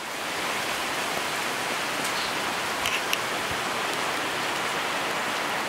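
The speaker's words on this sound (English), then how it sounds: "It's just been pouring and pouring and pouring and pouring and pouring and pouring and pouring" Heavy rain pours steadily outside a house and across the road, a dense, loud, unbroken hiss with a few faint drips and knocks, and no voices.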